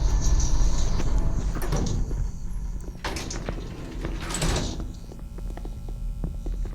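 A door being shut indoors, with a few scraping, thudding knocks spread over several seconds against a steady low mains hum.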